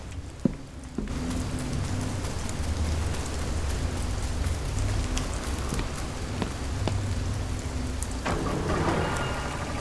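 Heavy steady rain pours in the Fears to Fathom video game, with a low rumble of thunder rolling underneath, continuous and close throughout.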